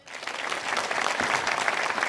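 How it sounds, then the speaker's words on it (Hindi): A crowd breaks into sustained applause, clapping building quickly and holding steady at a moderate distance. "सब जोरदार तालियां बजाएं।"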